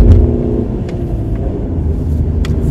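A car pulls away and drives off through a town on Madeira, giving a steady low engine rumble that stays close and even throughout, with no talk.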